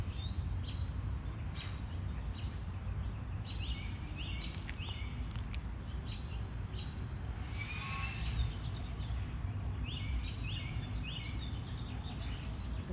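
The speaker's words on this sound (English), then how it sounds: "The birds even singing" Small birds chirp and trill in short repeated phrases over a steady soft outdoor hiss, fairly distant and faint, with no voices.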